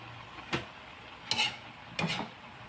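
Labong bamboo shoots and chopsuey vegetables are stirred in a pan: three short, separate scraping strokes over a quiet background.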